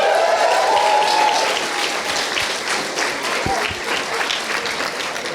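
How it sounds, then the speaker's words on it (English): A large audience at a student animation awards ceremony applauds loudly and continuously, a dense wash of clapping that fades slightly over five seconds. "Give yourselves a round of applause"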